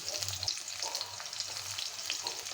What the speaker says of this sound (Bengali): দিয়ে দিব এখন পেঁয়াজ কুচিটা